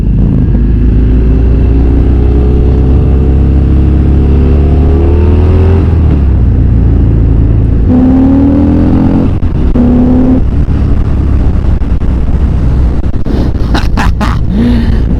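A 2022 Harley-Davidson Fat Bob 114 being ridden, its deep engine rumbling loudly and close with several rising revs and gear changes, wind noise in the background and brief sharp clicks near the end.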